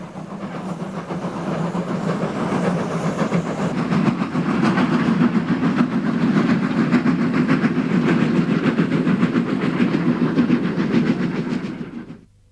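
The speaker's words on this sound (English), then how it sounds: "The loadings were heavy enough to warrant double heading up the bank." A double-headed steam train labours up the bank on the Kent and East Sussex Railway, a steady loud rumble with a fast rhythmic beat and rail clatter, continuous for about twelve seconds before it cuts off.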